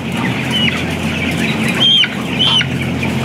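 Broiler chickens cluck inside a poultry house, with a few distinct calls rising over a dense, constant flock murmur and fan hum.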